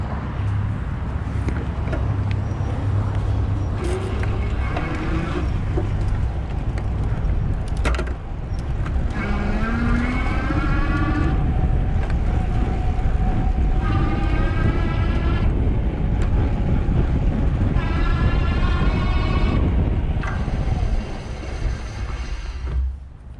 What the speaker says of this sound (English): I'm gonna pedal through, shift some gears, and just, you know, let you see up close.